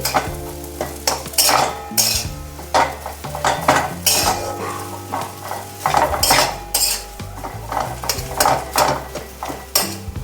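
Spices dry-roast in a dry wok over a low flame, a metal spatula scraping and clanking rhythmically against the pan in repeated strokes over a soft, steady sizzle.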